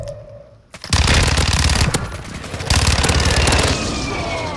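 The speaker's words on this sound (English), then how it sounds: "Friendly precision airstrike inbound" Precision airstrike in the Warzone 2 video game: after a brief quiet moment, a loud sustained barrage of rapid gunfire-like blasts and booms rolls on continuously for several seconds, dense and close.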